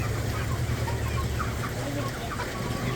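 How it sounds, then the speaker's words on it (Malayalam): Chickens cluck and squawk continuously at a chicken shop, several birds calling close by over a steady low hum and busy shop background. "അതെന്ത് കോഴിയാ? കറുപ്പുണ്ട്, ചുവപ്പുണ്ട്."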